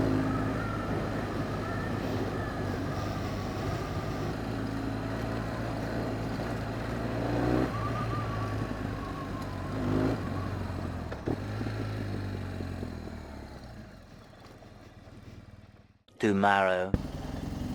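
BMW R1200GS motorcycle riding onto a dirt road in chilly weather, its steady engine drone and rumbling tire noise continuous throughout, with a brief gust of wind buffeting near the end and a voice speaking briefly over it.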